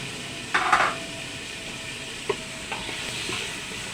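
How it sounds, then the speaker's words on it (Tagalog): Tomatoes cooking down in a pan for miso milkfish sinigang, with a few clattering stirring scrapes early on, then a faint steady sizzle and occasional light clinks; no one talks. "I-melt ko muna to guys na kamatis para masarap guys."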